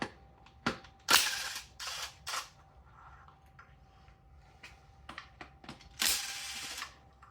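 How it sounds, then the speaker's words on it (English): A hand ratchet works on the air intake bolts of a Toyota 7M-GTE engine, several short bursts of rapid metallic clicking separated by quiet pauses, close by in a workshop with a faint steady hum behind. "so let's remove all the bolts for the air intake"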